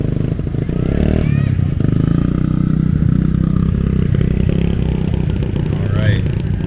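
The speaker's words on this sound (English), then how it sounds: "He's been doing the slow wheelie since day one." A vintage motorcycle engine runs at a low, steady pace throughout a slow wheelie at a vintage wheeler gathering, with a continuous mid-pitched motor rumble and occasional clatter beneath a commentator talking over it.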